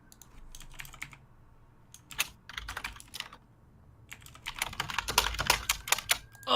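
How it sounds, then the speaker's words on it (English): Loud clacky typing on a mechanical keyboard, close up, in bursts of rapid keystrokes separated by short pauses, the last burst longest and densest, with no voices. "Oh, such loud typing."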